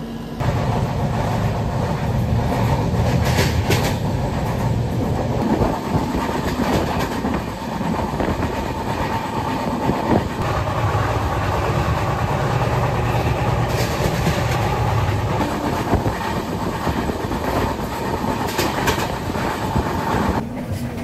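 The Mandovi Express rolls along the Konkan Railway between Mumbai and Goa, a steady rumbling ride with rhythmic clickety-clack of wheels over rail joints heard from inside the train.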